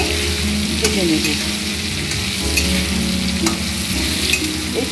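Potatoes and pointed gourd (potol) fry together in a pan for potol korma, giving a steady, close sizzle with occasional stirring scrapes throughout.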